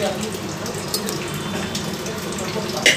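Mutton is poured together with its water into a pot of spices, giving a continuous splashing pour that runs steadily for a few seconds, loud and close, with a brighter splash near the end.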